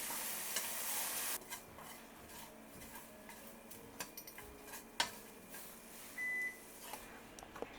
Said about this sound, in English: Turn the heat back to low and cook until the liquid evaporates.